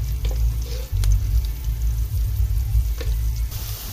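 Onion pieces with curry leaves frying in oil in a pan for paneer masala curry, a loud, close, continuous sizzle with a few light stirring clicks on top and a steady low rumble beneath.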